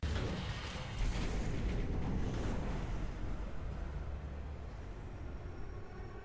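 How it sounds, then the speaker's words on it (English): Metro train in motion in the video game Sorry We're Closed: a low, steady rumbling roll with a faint rattle and boom-like swell, continuous throughout and gradually easing off, with no talking. "With the train in motion"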